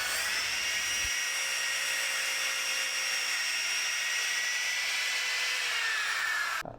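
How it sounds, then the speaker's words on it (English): A high-pitched power sander whines steadily and loudly on a metal bracket for several seconds, then cuts off abruptly at the end. "I was sanding here to make a channel for the wires to go through"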